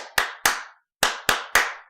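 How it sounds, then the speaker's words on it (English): Five sharp, close hand claps in a brief irregular run, each ringing briefly in the room, with a short pause after the second clap; no voices. "I'll give you a big round of applause"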